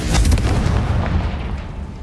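In the Hogwarts Legacy video game, a Confringo spell goes off as a heavy, booming blast that rolls and crackles for about two seconds, loud and dense with no speech.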